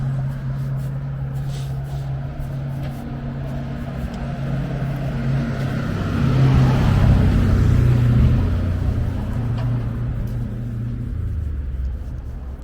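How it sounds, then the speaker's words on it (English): A military truck drives past near a university campus, its deep engine rumble building steadily, peaking loud at its closest and then fading off, with continuous traffic noise behind it. "here comes a military truck"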